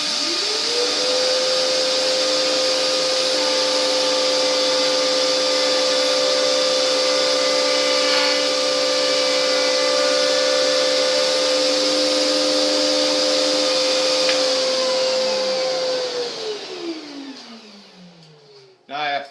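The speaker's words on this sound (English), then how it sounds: "So we have dust collection hooked up." A woodshop dust collector runs loud and steady with a droning motor whine and rushing air, then spins down and cuts off near the end, close by with no talk.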